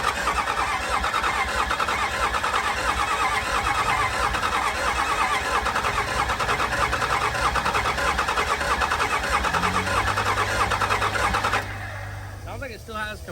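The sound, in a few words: Cummins diesel truck engine cranking, trying to start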